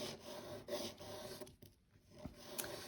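A nail file rasps back and forth over a gel nail in close, steady strokes with a brief pause partway through, no talking.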